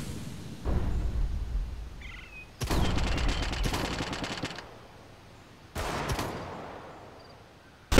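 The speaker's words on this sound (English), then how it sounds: "Deploying flashbang." Gunfire in the video game Counter-Strike: Global Offensive, with loud rapid automatic bursts in separate volleys and a dull thump between them.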